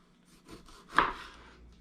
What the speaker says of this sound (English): I'm going to roll my lime real quick. Cut that guy in half.